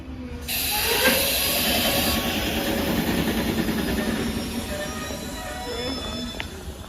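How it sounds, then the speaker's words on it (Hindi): A train pulling into a station, loud rumbling wheels and hissing with a faint squeal, steady and close, with people talking in the background. "अब इंतजार मोर खत्म हो ट्रेन आने वाला है"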